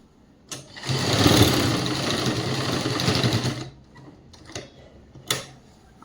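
A sewing machine runs steadily for about three seconds while stitching a school uniform skirt, loud and close, then stops, leaving a few faint clicks and handling taps.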